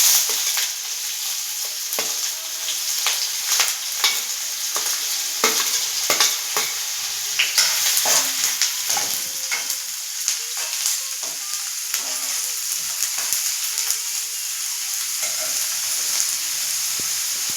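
Onion frying in hot oil in a pan for an egg masala, a steady loud sizzle with frequent scraping stir strokes throughout, close and without talk.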